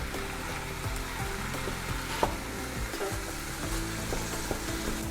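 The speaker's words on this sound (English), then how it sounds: "we're gonna let that all cook together until the beef is nice and brown" Beef seasoned with cayenne browning in a big pot, a low steady sizzle with occasional stirring scrapes and a single sharp clack midway, no voices.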